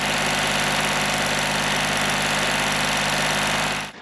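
New Holland Workmaster 75 cab tractor engine idling close by, a loud, steady diesel rumble with a constant low drone that cuts off abruptly near the end.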